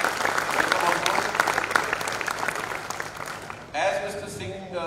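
An audience at a business gathering applauds Mr. Singh as he is welcomed on board, crisp continuous clapping that stops abruptly before a voice begins speaking over the hall.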